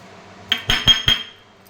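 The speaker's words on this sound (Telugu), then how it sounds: "ఇవన్నీ ఇందులో వేసుకొని మిక్స్ చేసేసుకుందాం మనం" Dry chili powder, salt and mustard powder being mixed in a bowl, heard as four sharp clinks of a metal spoon against the bowl in quick succession, with short ringing tails and no talk.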